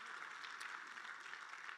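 A church congregation claps in a dense, even burst of applause, faint and heard from some distance in the room.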